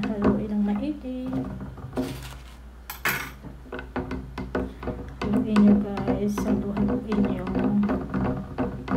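A detox drink is stirred briskly in a container, giving a run of rapid clinks and scrapes of a utensil against the sides, close and fairly loud, with someone talking over it.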